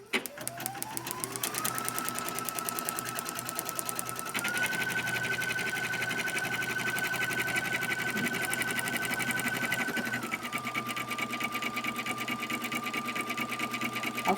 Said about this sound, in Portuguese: Sempre bom conferir a enfiação da máquina e dar início ao bordado.